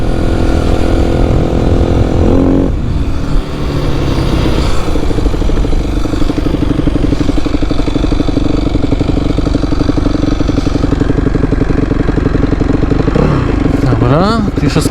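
A Yamaha YZF 250 dirt bike with a Keihin FCR carburetor runs after a carburetor service, holding a loud, steady, close buzzing idle throughout, with a brief throttle blip near the end.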